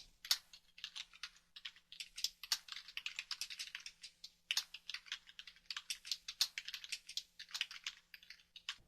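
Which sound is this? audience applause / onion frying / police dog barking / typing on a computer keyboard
typing on a computer keyboard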